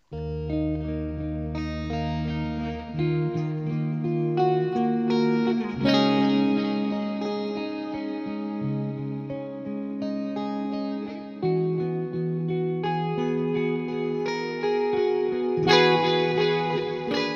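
Electric guitar fitted with moderate-output pickups plays a clean-tone passage of sustained chords and single notes with a reverb and chorus shimmer, steady and prominent with no talking.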